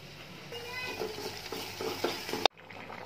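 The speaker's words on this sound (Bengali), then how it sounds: "আমি এখানে আজকে ফাঙ্গাস মাছ রান্না করতেছি, টমেটো আর মাছ দিয়ে দিছি, এখানে এগুলো কষতে দিছি।" Pangas fish frying with tomato and chili in a pan, a steady soft sizzle with occasional stirring scrapes close by, ending in a sharp clack and then quiet.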